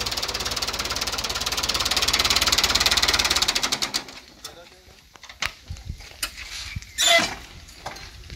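A 1978 Fiat 640 tractor engine running, a loud rapid rhythmic diesel knock for about four seconds that then cuts off, leaving scattered clicks, knocks and a brief burst of noise.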